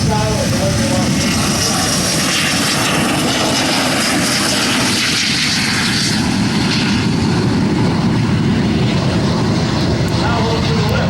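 Two Soviet MiG-17 fighter jets fly in formation at the EAA AirVenture Oshkosh 2025 jet demo, their loud engines making a continuous broad roar while a voice talks over it.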